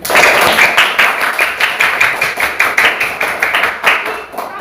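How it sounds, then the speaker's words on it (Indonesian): A school class claps for a classmate, a loud run of distinct, fairly rhythmic hand claps close by that thins out toward the end. "tepuk tangan buat temannya"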